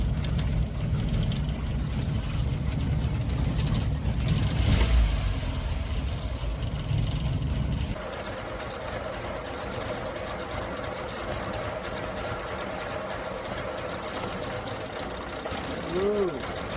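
Suzuki Samurai engine cranking, then catching and settling into a steady running idle after a few throttle pumps; loud rough rumble up close, with a person speaking over it.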